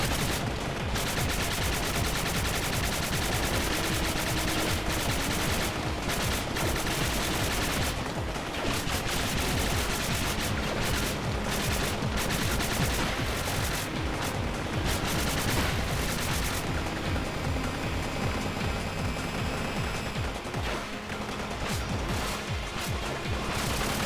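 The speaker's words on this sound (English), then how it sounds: "you guys can stop shooting at me anytime you like" Enemy gunfire in the video game Spark the Electric Jester 3, a continuous loud barrage of rapid shots and crashing impacts lasting the whole stretch, with no voices.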